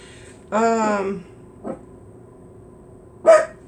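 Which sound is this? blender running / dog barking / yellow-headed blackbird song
dog barking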